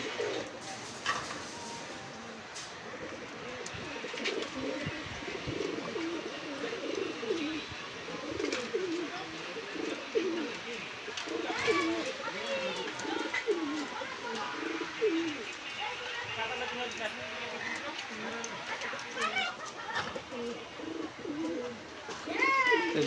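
Pigeons cooing at the Gollamari pigeon market, soft repeated coos and chirps throughout, with people talking over them in a busy outdoor setting.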